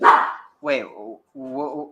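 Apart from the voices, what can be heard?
dog barking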